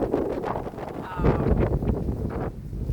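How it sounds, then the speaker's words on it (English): Gusty wind buffets the microphone with low rumbling blasts and rustling throughout, a faint voice barely present underneath. "Oh, rather windy."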